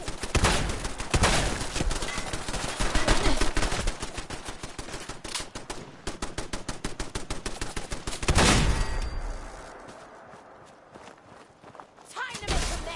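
Rapid gunfire from Fallout 4 crackles in dense bursts for about eight seconds, then drops to sparse scattered shots amid quieter ambience, with a voice speaking briefly.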